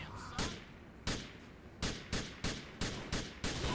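Pistol fire in Grand Theft Auto 4 The Lost and Damned: about eight sharp, loud shots in an uneven rhythm, each a crisp crack with a short decay, with no talk over them.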